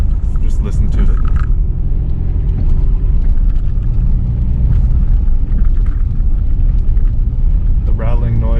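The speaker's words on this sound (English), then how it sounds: "The rattling noise is coming from all these screws on my dash." A 1990s Subaru Impreza 2.5RS GC8 on solid motor mounts, with the windows down and loose dash screws, drives with a loud, steady engine and road rumble throughout, and a voice talks briefly at the start and end.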